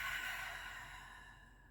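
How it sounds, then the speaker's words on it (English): A long, soft exhale during a pranayama breathing exercise, a single gentle breath out that fades away, quiet and close with no talking. "and exhale, let it all out."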